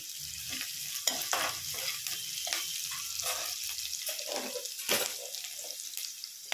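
Onion frying in a pan for an Andhra-style country okra curry, with a soft sizzle under frequent scraping spatula strokes and clinks, close and without voices.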